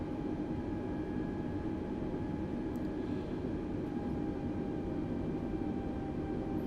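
An A320neo taxiing in Microsoft Flight Simulator gives a steady, even engine hum and rumble, with faint tonal whine above it, unbroken and alone throughout.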